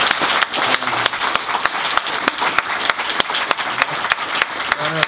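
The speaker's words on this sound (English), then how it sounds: "So a round of applause." Audience applause breaks out after a talk at a Startup Grind Dublin event, a dense run of hand claps with sharp individual smacks standing out, loud and close, steady for several seconds.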